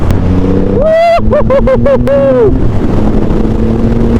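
Triumph Rocket 3 GT 2500cc motorcycle engine under way, a deep car-like drone with rising and falling revving pitch and brief gear-change dips, heard close with wind buffeting the microphone.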